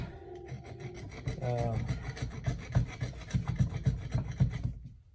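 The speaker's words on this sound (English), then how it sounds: "just file out some of these sharper burrs" Hand file rasping burrs off a steel u-joint yoke on a 1999 Ford F350, a run of close, steady back-and-forth scraping strokes that fades out at the end.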